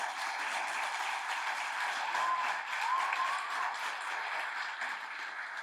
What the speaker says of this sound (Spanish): quiero pedir a la audiencia un fortísimo aplauso.